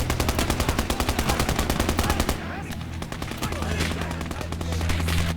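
An MG34 machine gun in the video game Gates of Hell: Ostfront fires a long, loud, rapid burst of evenly spaced shots, then breaks off into a rumbling battle backdrop with more distant firing.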